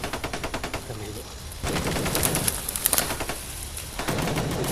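Heavy gunfire nearby during a clash with bandits: rapid bursts of automatic fire, then dense, loud, continuous volleys, with faint voices mixed in.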